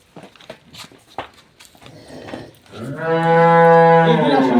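A very large dairy cow on a farm in Dinajpur lets out one long, loud moo close by, after a few seconds of soft footsteps and handling noises.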